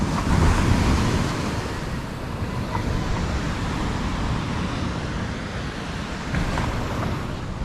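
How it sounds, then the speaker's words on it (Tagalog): Waves wash and roar continuously onto the shore, a broad rushing surf mixed with gusty wind noise and no voices. "May kalbog pala, may mga alon, diba?"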